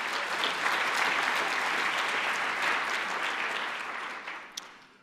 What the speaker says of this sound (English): please give yourselves and the audience a big,